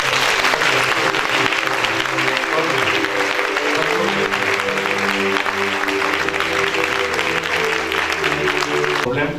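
A church congregation applauding to acclaim God, sustained loud clapping from a large crowd that fills the whole stretch, with voices and musical tones running underneath.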